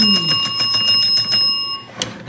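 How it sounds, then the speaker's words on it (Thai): A small handheld bell rings rapidly in a quick run of bright, loud strikes to announce a sales promotion, then tapers off, followed by a couple of faint knocks. "ขอเชิญกระดิ่งมาหน่อยค่ะ"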